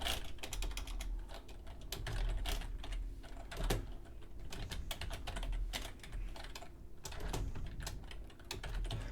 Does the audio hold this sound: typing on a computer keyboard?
yes